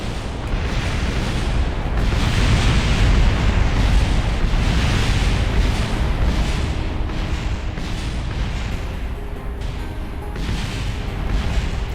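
Rocket parts exploding in the game Kerbal Space Program, a loud, continuous roaring rumble of overlapping blasts that swells and churns for the whole stretch, with no talking.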